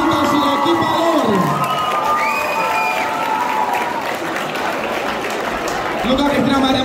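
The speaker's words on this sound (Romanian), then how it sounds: "aplauze pentru Cristina și Luca și echipa lor!" A crowd at a freshmen's ball applauds and cheers for dancers Cristina and Luca and their team, with loud continuous clapping, whoops and shouts, while music tones and voices carry through.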